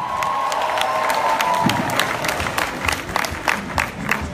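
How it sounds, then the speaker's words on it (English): A crowd at a training event claps and cheers as a speaker returns to the stage, a steady wash of applause with some shouts mixed in, loud and sustained. "Let's give him a right hand clap"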